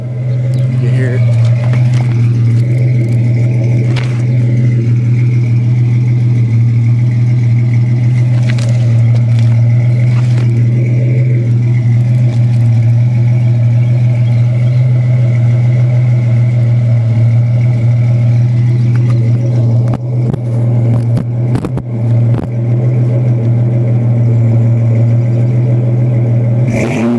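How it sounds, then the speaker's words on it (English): A lifted 1992 Ford Explorer's engine drones loudly throughout, its low hum rising in pitch as it revs up and down, with some clattering knocks near the end. "I'm gonna see if I can get a good rev of the engine here."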